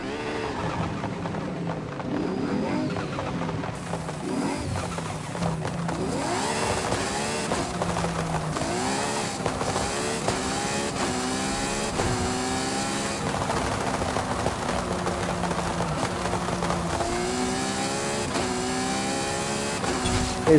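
Forza Horizon 5 car engine revving loudly and continuously, rising and falling in pitch through repeated gear shifts with no talk over it.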